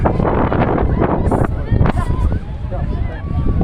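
Strong wind buffets the microphone outdoors at a rose garden display in Baybay City, a steady rough rumble with gusts throughout, voices and background chatter mixed in.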